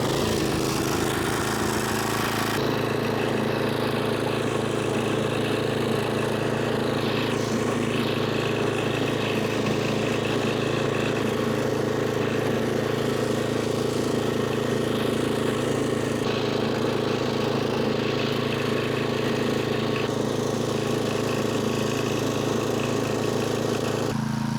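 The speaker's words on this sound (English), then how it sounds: "Let's go ahead and get this tilled up and ready for some grass seed." A garden tiller's small engine runs loud and close while turning soil for a new lawn, a steady, unbroken chugging drone throughout.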